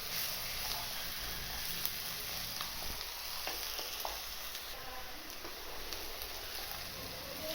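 Onions softening in oil in a pan while a spoon keeps stirring them, a steady soft sizzle with occasional faint scrapes and clicks, no talking.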